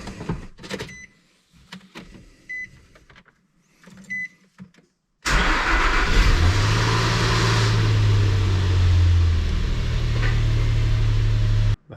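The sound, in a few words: 2006 Nissan Xterra engine starting with a new exhaust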